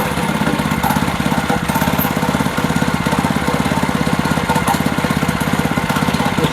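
A mini bike's small engine with a cheap carburetor runs steadily close by, chugging with a fast, even, loud putter and no speech.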